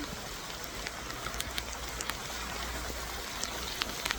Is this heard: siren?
no